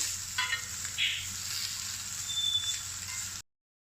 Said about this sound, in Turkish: Köftelerimizi sürekli çevirerek pişiriyoruz.